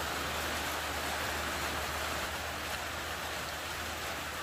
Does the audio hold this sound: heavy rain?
yes